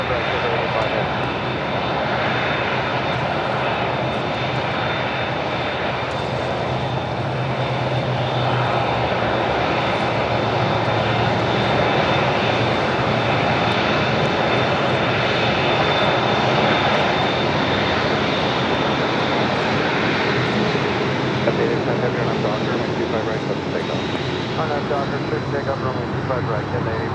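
A jet airliner rolls for takeoff on LAX runway 25 right, a steady loud roar sustained for the whole stretch, with faint radio voices underneath.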